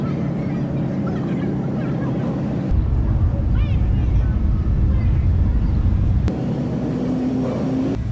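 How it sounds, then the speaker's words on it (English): A 1930s car horn honks in a wavering, goose-like tone at an outdoor car cruise event, loud and close over engine rumble and crowd noise. "you're hearing a horn from the 30s"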